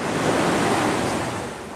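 Surf rolls onto a beach near a seaside cottage, a loud steady wash of breaking water filling the brief moment without any voices.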